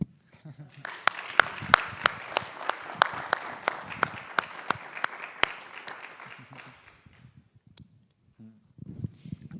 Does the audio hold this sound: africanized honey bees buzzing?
no